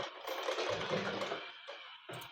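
A foot-pedal sewing machine runs a straight line of stitching for beginner tailoring practice, its steady rapid whirring close and continuous for about two seconds before slowing and briefly restarting.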